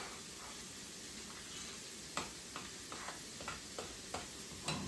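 A Quattro Formaggio cheese mixture being stirred in a bowl, with soft scraping and a run of light, evenly spaced clicks against the container over a steady background hiss, no voices.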